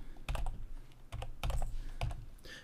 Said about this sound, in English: I would type in Citizens and hit Enter